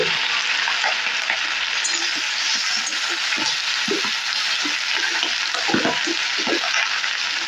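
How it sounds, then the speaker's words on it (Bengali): Matar shak greens sizzle in a pan as they are stirred, a steady frying hiss with repeated soft scraping and clattering strokes throughout, close and fairly loud, without talking. "ভালো করে নাড়াচাড়া করে নেব"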